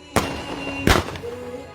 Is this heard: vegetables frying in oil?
no